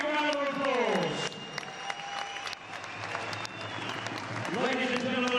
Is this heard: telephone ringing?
no